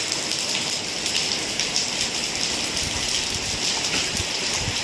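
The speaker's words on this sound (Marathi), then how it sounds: "मुसळधार पाऊस चालू आहे चिपळूणमध्ये" Heavy monsoon rain pours down in Chiplun, a dense, loud, unbroken roar of drops drumming on surfaces, steady throughout with no voices.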